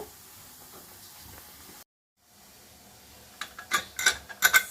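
A pressure cooker cooking chickpea sambar sits quietly at first. Near the end it releases several short, sharp bursts of hissing steam close up.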